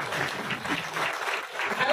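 Audience applause at a political rally speech in Chiplun, a steady wash of clapping from a sizable crowd lasting throughout without a break.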